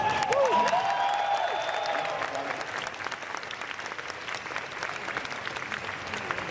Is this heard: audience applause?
yes